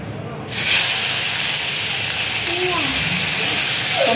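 Tomatoes sizzle in a hot pan while cooking a dry fish masala, a loud, steady hiss that swells suddenly after a quieter opening and carries on with a faint voice underneath.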